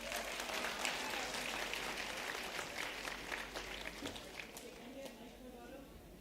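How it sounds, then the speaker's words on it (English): An audience at a school event applauds a volunteer, a broad wash of clapping filling the room for several seconds and slowly thinning, with voices murmuring underneath. "Guys, can you have a round of applause to Bharat, please?"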